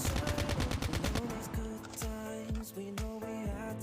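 Assault rifle firing in COD Mobile, a fast burst of loud automatic shots at the start, then spaced single shots with ringing echoes over background game music.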